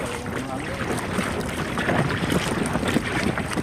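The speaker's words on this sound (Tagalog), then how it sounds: "Grabe, ang lakas ng hangin." Strong wind blows outdoors over shallow water during crab trapping, making a steady rushing roar with microphone buffeting and a faint splashing undertone throughout.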